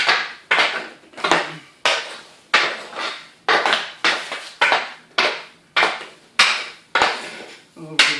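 Hockey puck hit repeatedly across a homemade aluminum stick-handling device, a regular series of sharp smacks each followed by a fading metallic slide, about a dozen close, loud strikes in steady rhythm.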